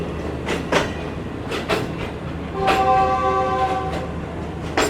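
The 38 Down Baba Farid Express, a Lahore–Karachi train, stands at Khanpur station, with rail clatter, periodic bursts of noise and a loud tonal horn sounding midway against steady ambient background.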